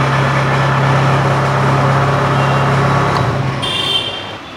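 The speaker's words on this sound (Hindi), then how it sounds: "इंजन इसका ऑन हो चुका है। वाइब्रेट मुझे बहुत ही कम इसमें एहसास हो रहा है" Engine of a Kubota chain harvester idling steadily, a loud, close, continuous mechanical drone with a low hum that fades near the end, where a brief high whine appears.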